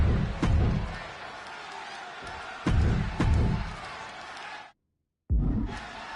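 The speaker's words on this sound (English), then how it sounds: "just listen to this crowd here in Chicago" Wrestling arena crowd in Chicago roaring at a match, a dense sustained din with sharp slams and bursts, cutting out briefly near the end before swelling again.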